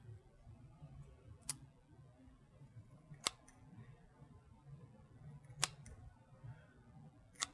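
Pinking shears snipping a cocktail garnish, four crisp isolated clicks spaced roughly two seconds apart, close and clear over quiet room noise.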